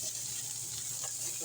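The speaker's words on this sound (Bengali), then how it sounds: "এসব আমি দিয়ে এখন এই সাইডে ভেজে ফেলবো" Taki fish frying in oil, a brief, even hiss of sizzling held at steady moderate loudness with faint crackles, no voices.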